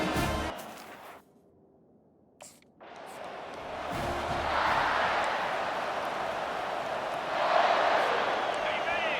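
College football stadium crowd on Senior Day, a broad roaring cheer that swells after a short quiet gap and keeps building loud and sustained, with a broadcast announcer talking over it.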